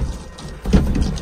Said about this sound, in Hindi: यार बारिश बहुत तेज आ गई भाई, तेज आ गई यार।